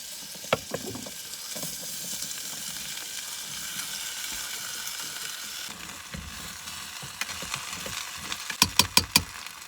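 Butter, garlic, carrots and potatoes frying in a pan at a snowy truck camp, a steady close sizzle with scattered stirring taps, ending in a few sharp rapid clicks.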